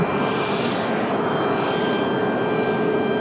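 A PSA CRJ 900LR regional jet arriving from Philadelphia gives off a steady, loud jet roar at the airport, with a broad whooshing hum and a thin high whine that hold constant throughout.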